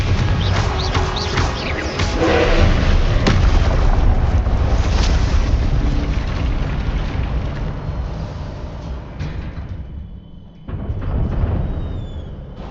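Spell-casting blasts and fiery explosions in Hogwarts Legacy combat, a dense, loud rumble of booms and crackling bursts that swells and then briefly drops out before another blast.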